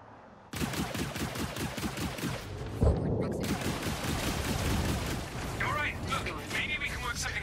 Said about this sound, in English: There goes my missile.